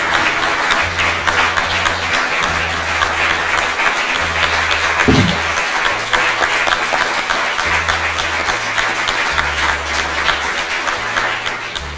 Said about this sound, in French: voici enfin ta charte sous les applaudissements de la foule en délire